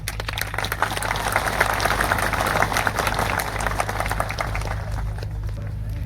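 A crowd at an Aam Aadmi Party meeting in Naswadi taluka bursts into dense, sustained applause of many hands clapping, heard over a low amplified hum with faint voices mixed in.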